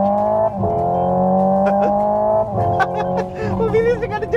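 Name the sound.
Hyundai Ioniq 5 N electric car driving, tire noise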